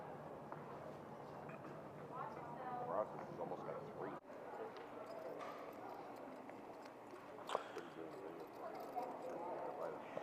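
Horse hooves clip-clop at a horse sale in Harrisburg, a loose rhythm of hoof strikes running under continuous talk, with a few sharper knocks standing out.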